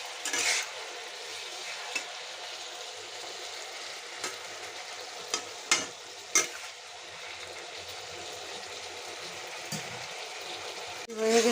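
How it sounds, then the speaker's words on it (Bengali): Vegetables for shukto fry in a pan with turmeric, giving a soft continuous sizzle broken by sharp scattered clinks and scrapes of a utensil against the pan. "অল্প সবজি ফ্রাই হয়ে গেছে"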